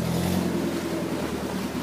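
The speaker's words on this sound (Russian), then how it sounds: "стандартный у нас отжигает без глушителя, плюс 10 мощности" Vehicle engine running without a muffler, a loud, raw, steady droning rumble close by with a strong low hum throughout.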